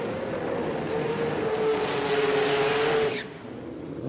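Mazda 3 drag car with a 20B rotary engine at a drag racing event, a loud sustained buzzing engine howl with a steady pitch, cutting off sharply near the end before the noise drops.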